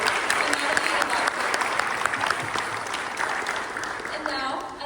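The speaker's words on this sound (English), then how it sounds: "another round of applause for Nicholas" Audience applause at a piano benefit recital, greeting a string trio: dense, sustained clapping from a seated crowd that holds steady for the full stretch, with no voices over it.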